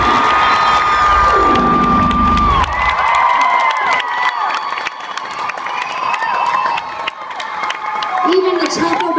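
A concert crowd at a show in San Diego cheers and whoops loudly for the drummer, with shrill shouts and a steady roar throughout.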